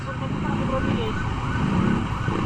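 An ambulance siren wails steadily over loud, rumbling traffic noise, close by and continuous throughout.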